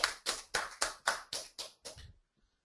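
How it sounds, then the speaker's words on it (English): About eight distinct hand claps ring out in an even rhythm, close and fairly quiet, as an award winner is honoured; the claps stop abruptly, leaving near silence. "A big round of applause for Nikhil Chintala."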